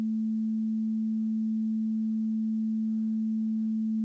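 A crystal singing bowl played with a mushroom-shaped mallet gives a steady, unwavering pure hum at one pitch throughout, smooth and sustained with a faint higher overtone, close and constant in level.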